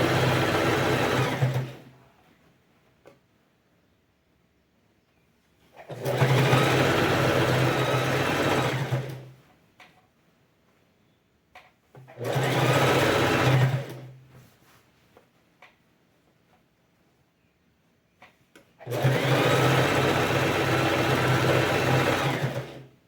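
Sewing machine stitching a patchwork rug on a TNT nonwoven base, with backstitching at the start and end of the seam; four loud, steady bursts of whirring, each a few seconds long, separated by quiet pauses.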